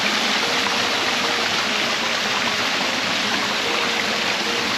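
A steady, broad rush of falling water roars without a break, loud and close, with no voices.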